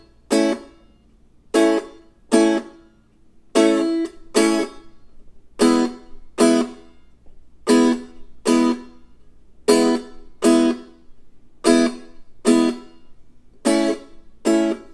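A small Loog guitar strummed with a play-and-stop technique, giving short, muted chord stabs in a steady syncopated pattern, each cut off sharply into near silence, close and moderately loud.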